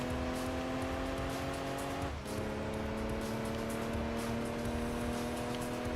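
A small Mini racing car in Gran Turismo 2 holds a steady, buzzing engine drone that dips briefly as it shifts gear, then climbs on at constant volume, alone with no voices.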